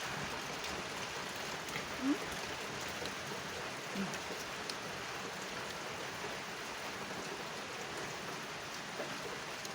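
Steady, even rain falls outdoors over open rice fields in rural Thailand, a dense continuous patter that holds at the same level throughout with no talking.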